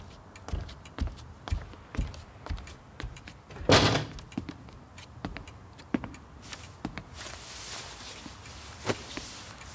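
Indoor household sounds: soft thumps and taps, like footsteps, then one louder thunk of a door shutting midway, followed by more light knocks and a brief hiss.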